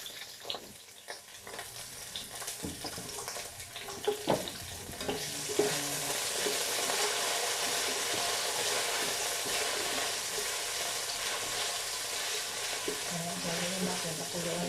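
Garlic and onion hitting hot oil in a pan, a few clinks and stirring knocks at first, then a loud steady sizzle that swells and holds close up, with occasional scraping of the utensil.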